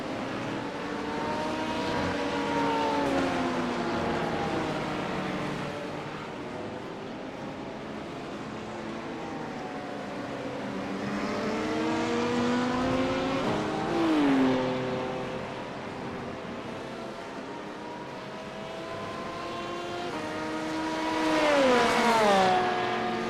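In an iRacing IMSA sim race, an LMP2 prototype and GT3 traffic, including a BMW and a Porsche, roar continuously. Engines climb in pitch through the gears with repeated shifts and revving sweeps, with no talking.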